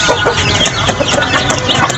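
Chickens and roosters clucking together in a loud, busy jumble of overlapping calls, close by and continuous throughout.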